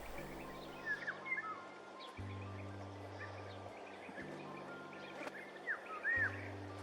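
A bird calls overhead in hot June weather in Murcia, Spain, sending out short chirps and whistled notes at intervals over a low steady hum.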